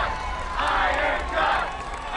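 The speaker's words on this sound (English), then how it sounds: "Well, you can hear the crowd already." A crowd at an obstacle-course competition chants for a 26-year-old contestant, a broad rumbling roar of many voices swelling in two waves from a distance, with a commentator talking over it.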